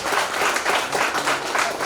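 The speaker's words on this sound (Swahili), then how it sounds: "Pigeni makofi mazuri." A church congregation applauding, a dense, steady wash of many hands clapping at close range throughout.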